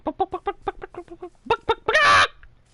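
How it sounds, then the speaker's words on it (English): Minecraft chickens clucking in a game, a quick run of short, evenly spaced clucks followed by a louder, drawn-out squawk near the end, close and alone with no talk. "I get a headache having to listen to their clucking."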